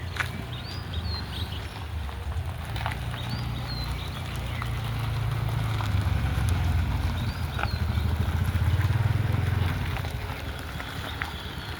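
A learner driver's vehicle reverses slowly, giving a steady low engine rumble that swells a little midway, with faint chirps in the background and no talking.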